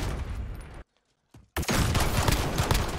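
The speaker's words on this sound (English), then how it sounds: "That pistol is trash." Pistol in the video game Modern Warfare, a dense burst of loud gunfire, then a brief silence with a faint pop, then heavy firing resumes and carries on to the end.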